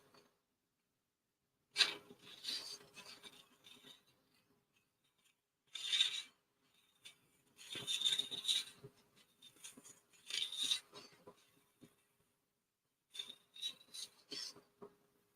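Hand sanding of a glitter-filled pen blank with sandpaper in a few separate bursts of raspy rubbing, close by, with short pauses between strokes and no talking.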